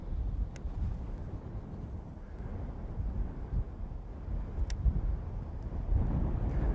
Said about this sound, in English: this wind is just really ripping and gusting probably 30 40 right now